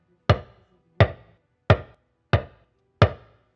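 Five evenly spaced deep talking drum hits on the low Do tone, each a short thump with a quick decay, played at a steady pace with silence between strikes.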